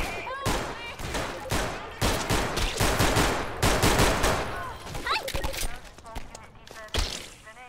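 Gunfire in the Garry's Mod video game, sharp shots cracking in quick irregular bursts and clusters, loud and close, with a voice speaking over parts of the shooting.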